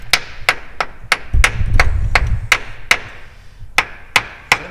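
Sharp hammer blows ring out on an Eaton Fuller 18-speed truck transmission in a tight spot, about a dozen loud, evenly spaced metallic strikes, close up, with a brief low rumble in the middle.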